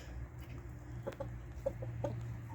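Chickens cluck softly in short scattered calls while they peck at mixed corn and seed, with a low steady background hum beneath them.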